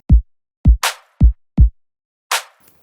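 A punchy electronic trap drum loop without compression or EQ: four deep kick hits in a steady pattern with two bright clap-snare hits between them, dry and close.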